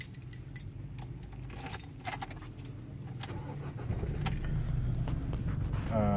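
A 2012 Ford Ranger T6 pickup started with a flip key: keys jangle and clatter near at hand, then the engine catches and settles into a louder, steady low rumble in the second half.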